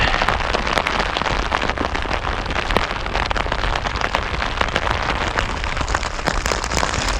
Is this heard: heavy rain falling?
yes